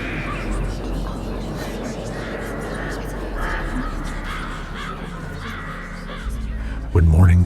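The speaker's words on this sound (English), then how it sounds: "the crows scattered into the night" Crows caw in a scattering flock over a dense, murky ambient bed, calls blurring together at moderate distance, with a heavier low rumble swelling near the end.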